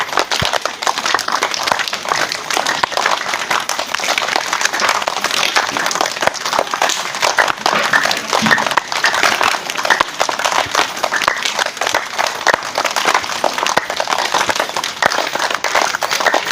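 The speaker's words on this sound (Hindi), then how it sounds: "आंख बंद करेंगे और ताली में ताली मिलाते हुए, घोड़े की टाप" A crowd at a yoga camp claps hands fast and continuously in rhythm, like galloping hoofbeats, dense and loud throughout without pause.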